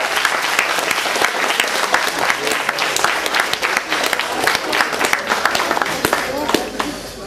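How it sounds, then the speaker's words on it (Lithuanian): Audience applauding at a Lithuanian school hundred-days-before-graduation celebration, as seniors receive sweet gifts; steady dense clapping runs throughout, loud and close, fading slightly at the end. "Aplodismentai."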